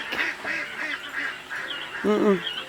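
Ducks on a duck and quail farm give a run of repeated nasal quacks and honks, moderately close, with a louder burst of calls near the end and faint voices underneath.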